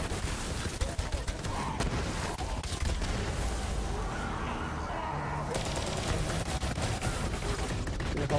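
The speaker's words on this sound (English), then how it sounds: "This gun I'm using here, it has more than 6000 damage per shot on the fire rate is weak." A high-damage secondary gun with a weak fire rate fires in Borderlands 3 during a wave-based arena round, giving dense, repeated loud shots and booms throughout, with a voice talking over them.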